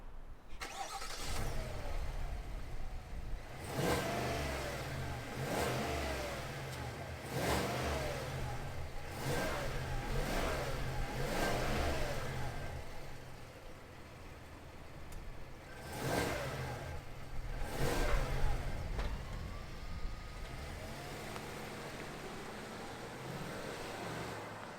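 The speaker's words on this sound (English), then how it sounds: "let's Super Cruise and hear what this Cadillac Escalade sounds like." A 2022 Cadillac Escalade luxury SUV driving on Super Cruise, heard from inside the cabin as a steady engine and road hum with gentle swells as it accelerates, continuous and moderately loud, with no talking.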